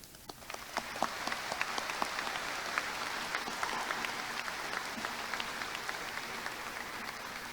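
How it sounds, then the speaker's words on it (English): Graduation audience at a high school ceremony applauding the faculty and staff, a broad patter of many hands clapping that swells quickly and holds steady, moderately distant in a large space. "Please join me in applauding our passionate and dedicated faculty and staff"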